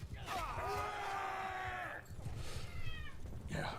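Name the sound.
cat meowing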